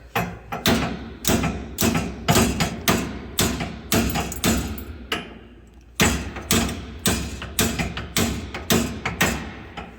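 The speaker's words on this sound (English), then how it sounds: "we're trying to use a adjustable wrench and a hammer." Rapid, loud metallic hammer strikes on an adjustable wrench ring out in a steady rhythm, pausing briefly midway before resuming the repeated blows.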